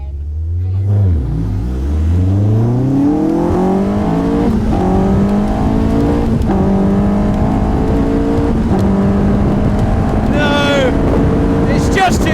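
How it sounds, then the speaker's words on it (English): Caterham cars, Duratec versus K-Series engines, drag race as an engine launches and revs hard through rising gear pulls with short shift breaks. A commentator talks over the run. "that torquey, powerful Duratec engine, that extra 20 horsepower, is just making the difference at the moment"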